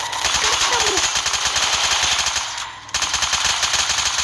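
Rapid automatic gunfire from the Free Fire video game, loud and close, with dense repeated shots and a brief dip near the end before firing resumes; faint voices sit under the shooting.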